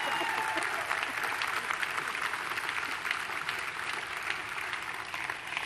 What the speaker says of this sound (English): If you want to applaud, applaud.